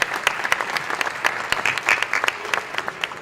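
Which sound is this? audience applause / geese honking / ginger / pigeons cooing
audience applause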